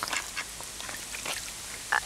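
A duck gives a few short, scattered quacks in a loose irregular rhythm, moderately close, with a sharper final call near the end and no talking.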